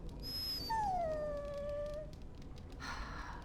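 A dog in the video game Dragon Age Origins lets out a single drawn-out whimpering howl, thin and mournful, faint over a quiet background.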